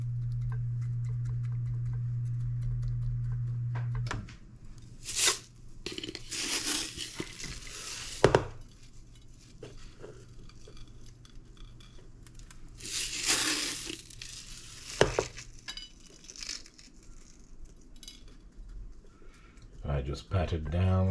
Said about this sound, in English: I just pat it down like that.